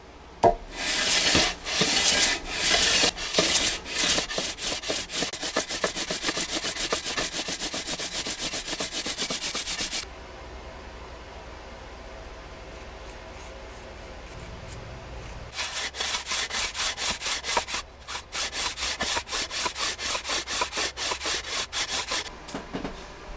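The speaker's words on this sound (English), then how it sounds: "I'm just going to take a little bit of surface off the top just to get it smooth again so the gasket will seal perfectly." The top of a Honda CBR600RR engine block is resurfaced by hand to smooth the gasket surface. Close, loud back-and-forth scraping strokes come in a steady rhythm, pause quietly midway, then resume.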